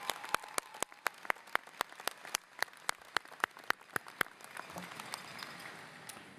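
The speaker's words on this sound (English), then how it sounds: "Please join me in a round of applause." Sparse, separate hand claps at a 2018 university commencement ceremony, sharp individual strikes at an uneven rhythm rather than a full ovation, fading into a soft room hum near the end.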